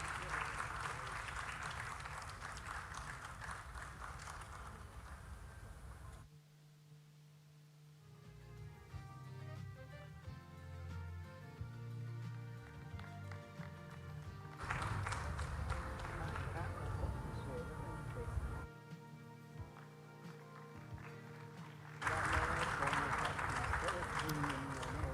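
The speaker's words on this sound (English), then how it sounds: "shall we celebrate him with another big round of applause?" Audience at an awards ceremony breaking into applause, a broad wash of clapping rising in bursts between stretches of quieter music, with a voice speaking over the room.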